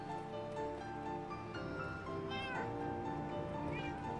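A Minecraft cat meows repeatedly in clear, high, tonal calls spread across the stretch, moderately loud over a faint background hum.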